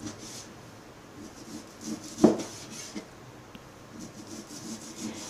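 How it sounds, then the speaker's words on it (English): A sharpened knife slices through pork meat, giving soft, quiet rubbing strokes with one sharper click partway through. "sharpened knife, not blunt. See? It's very easy to slice."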